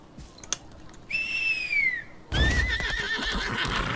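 A horse neighing while being ridden in the video game Lost Ark, two clear high whinnies close by, the second layered over hoof and movement noise.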